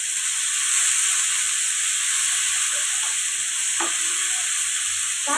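Tomatoes and ginger sizzle in a hot pan for a tomato chutney, a loud, steady, hissing fry that continues throughout, with a few faint clicks of stirring underneath.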